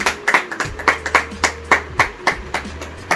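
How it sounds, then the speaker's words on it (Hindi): Audience clapping to welcome people at a social service committee event honoring orphaned daughters in Naugaon, with distinct, fairly loud claps in an uneven rhythm, about a dozen sharp strikes, with no talk over them. "इस खुशी में आप लोग सब लोग तालियों से स्वागत करते हैं"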